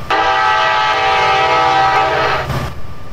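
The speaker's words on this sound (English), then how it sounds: "Let's go ahead and check out the horn." A loud, sustained multi-tone train horn blares from a TRE commuter train in the Roblox Trainz game, one long continuous blast of about two and a half seconds before cutting off.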